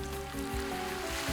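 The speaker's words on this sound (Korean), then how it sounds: "임낭해수욕장은 잔잔한 파도 소리를 들으며 고운 모래사장을 걷기에 참 좋은데요" Gentle winter waves wash over the fine sand of Imnang Beach in Gijang, Busan, in a soft continuous hiss with faint surges, mixed with a quiet steady tonal background.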